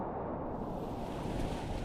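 Steady broadband roar of Atlantic Ocean surf on a beach in Porto, Portugal, continuous and fairly loud, with wind noise and no voices.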